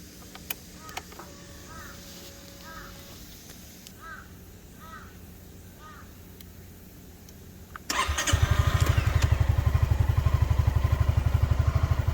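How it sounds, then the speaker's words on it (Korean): A Honda ADV350 motor scooter engine sputters, catches and starts slowly, then idles with a steady, loud putter; crows caw faintly in the background beforehand. "우선 시동 걸리는 게 조금 늦습니다"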